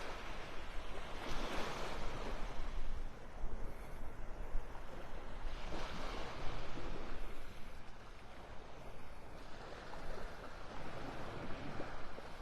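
Waves wash onto a quiet beach in North Naples, Florida, with soft surf swells rising and falling every few seconds over a steady wind hiss and no voices.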